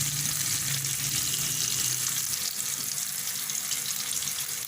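Koftas (meatballs) for chicken moti pulao sizzling steadily in a pan of hot oil, a close, continuous crackling fry with no voices over it.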